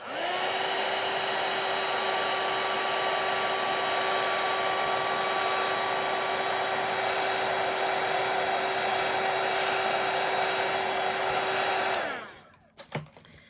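A hair dryer blows steadily on a watercolor painting of a moth, a constant whining airflow roar held for about twelve seconds before it switches off and winds down, followed by a few faint handling clicks.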